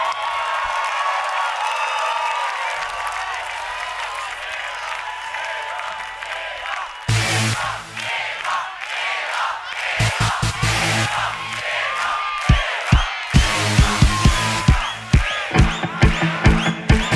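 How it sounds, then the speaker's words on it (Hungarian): Concert crowd at an outdoor festival in Orfű breaks into applause and cheering after music fades, rising in bursts with whoops and shouts, then settling into loud, sharp rhythmic clapping near the end. "Nagy tapsot Évának."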